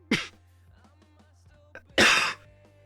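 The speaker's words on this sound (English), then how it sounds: "Hold on that cough." Harsh coughing after a hit of cannabis, two strong close bursts with a brief quieter hack between, over a low steady hum.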